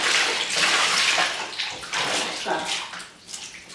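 A beach-ball-sized inflated balloon is pushed down into a container filled to the top with water, giving a continuous close splashing and sloshing wash with brief surges, and a voice speaks once near the end.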